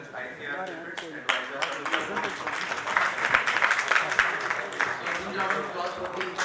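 Audience applause at a national food processing conference, scattered clapping that builds into a fuller round, heard under a voice speaking over a PA.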